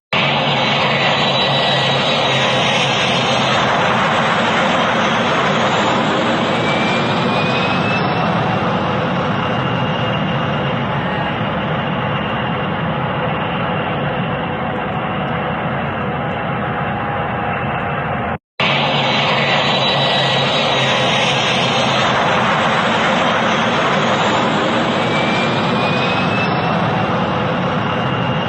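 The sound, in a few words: firefighting aircraft scooping up water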